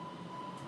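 Green Line subway train interior: a steady low rumble and hum of the moving train with a faint tonal whine, brief and continuous with no distinct events.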